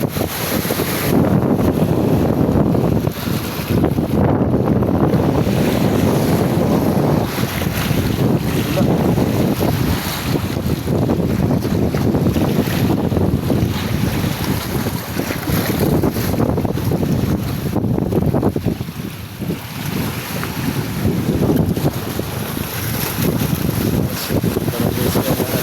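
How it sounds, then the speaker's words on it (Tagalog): Strong wind roars continuously across the microphone while large waves surge and crash around a boat, loud and unbroken throughout. "Ready tayo sa malaking alon."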